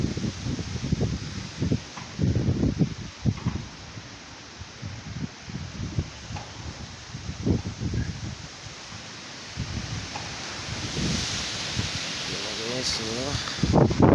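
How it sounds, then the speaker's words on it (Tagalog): Typhoon Rolly's winds roar in uneven gusts and rustle nearby trees, as if tearing at roofs. The sound swells and dips in a steady, moderately loud wash, with a voice faintly present. "Lakas ng hangin guys, parang lumilipad ng bubong guys."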